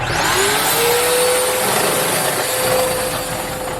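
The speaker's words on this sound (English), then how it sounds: "Vacuum's not exactly the nicest." A vacuum cleaner runs steadily inside an RV, loud and close, with a constant whine and a rising pitch as the motor spins up, plus a fan humming in the background.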